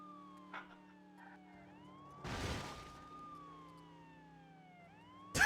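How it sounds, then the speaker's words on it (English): Police car siren in the video game True Crime: New York City, a clear wailing tone that sweeps slowly up and down, fairly quiet and alone apart from a brief noisy burst midway and a sharp sound at the end. "I'll put the siren on for you guys."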